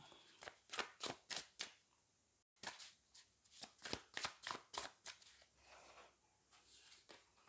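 A Wild Unknown tarot deck being shuffled by hand, a quick run of crisp riffling snaps in two bursts separated by a brief pause, close and fairly quiet, with no talk.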